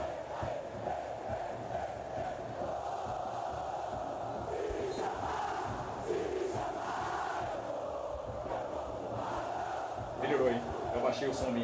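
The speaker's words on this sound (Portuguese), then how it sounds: "O torcedor rubro-negro está cantando dos quatro cantos" Football fans of Vitória sing and chant together in a stadium during the Bahia versus Vitória Baianão 2024 derby, a steady, loud massed roar of voices that swells slightly toward the end.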